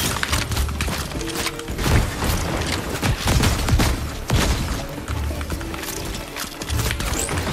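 Repeated shotgun blasts in the video game Fortnite, loud booming bursts spaced irregularly through a busy, cluttered game soundscape with crashes and thuds.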